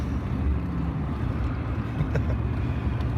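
A steady, loud engine roar drones without a break, heavy and low, with wind-like noise over it and no voices.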